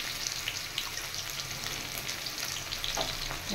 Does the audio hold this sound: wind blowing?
no